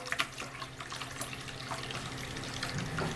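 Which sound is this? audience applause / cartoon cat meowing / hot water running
hot water running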